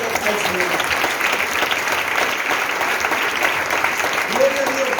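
Continuous, dense applause from a church congregation, loud and close, with faint voices mixed into the clapping.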